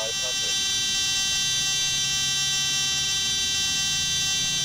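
In Microsoft Flight Simulator X Steam Edition, the landing gear warning alarm sounds as a loud, continuous, harsh electronic buzz. It sustains at an unbroken level throughout, with no pauses, and is the dominant sound.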